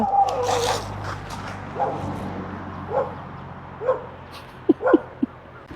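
A large dog barks a few times, then lets out higher yips and whimpers, sounding moderately near with quiet gaps between the sounds, in Thailand.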